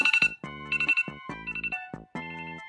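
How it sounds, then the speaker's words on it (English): The default Radar alarm ringtone on an iPhone plays clear, bright electronic chime pulses in repeating rhythmic bursts, close and alone. "Now I know a lot of people don't really like the radar sound effect"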